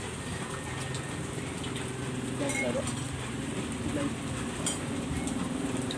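Steady rain hisses throughout, with a low background rumble and a few faint knocks and clinks nearby.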